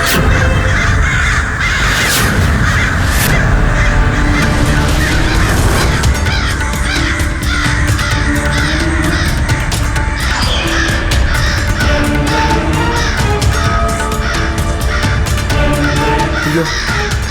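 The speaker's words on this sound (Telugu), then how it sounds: "ఈ కాకులు ఏం చేస్తున్నాయి" Crows caw repeatedly and loudly in a dense flock over a continuous bed of background noise, the harsh calls overlapping throughout.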